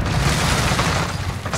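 A C4 charge detonating in Modern Warfare gives a heavy, loud, rumbling boom that fills the short moment and then tails off.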